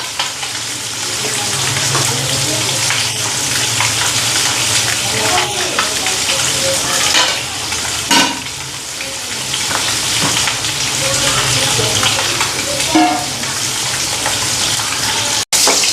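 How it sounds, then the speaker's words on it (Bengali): Fish pieces fry in a pan with a long, steady, close sizzle, broken now and then by handling noises and a sharp knock at the end. "তো এদিকে মাছগুলিও ভাজা হয়ে গেছে"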